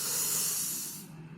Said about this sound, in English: Deep breathing. Inhale slowly.